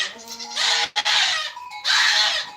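Goats bleat on a farm where native breeds are kept, with several loud, close, wavering bleats following one another, one animal's cry overlapping another's.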